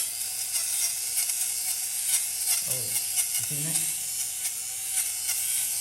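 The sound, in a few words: electric lint remover cutting rug fibers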